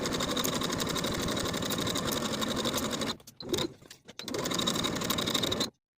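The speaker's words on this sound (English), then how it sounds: "we're going to sew with a 5/8 inch seam allowance, leaving this entire notched section open" Sewing machine stitching shirt collar pieces with a 5/8 inch seam allowance, a fast steady mechanical whir running close and continuous, briefly stopping and restarting before cutting off at the end.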